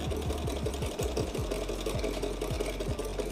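A home sewing machine that has been under repair runs and stitches with a steady, fast mechanical chatter and regular low thumps, close and continuous, with no voices.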